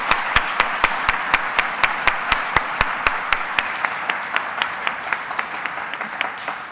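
An audience bursts into steady, sustained applause at a robotics conference awards session for Kris, the clapping loud and even with sharp individual claps standing out, no voices over it.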